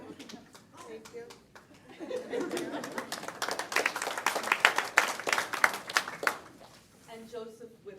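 Applause at a board of education meeting, building from scattered claps into a fuller burst of clapping with some chuckles and murmured chatter, then tapering off as a voice speaks near the end.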